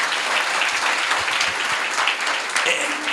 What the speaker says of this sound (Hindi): ताली बजाए हमारी दोनों बहनों के लिए।